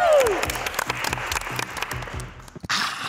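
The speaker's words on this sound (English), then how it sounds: "round of applause, because everybody's kick game is valid" An audience gives a round of applause: scattered, uneven claps with irregular bursts, a whistle-like tone at the start and a louder rush near the end.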